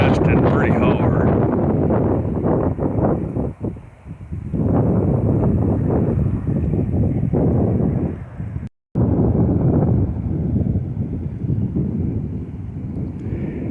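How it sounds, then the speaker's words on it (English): Strong gusting wind buffets the microphone outdoors on a hot, red-sunset Christmas Eve, roaring loud and continuous while people talk throughout, with one brief dropout. "the wind's gusting pretty hard"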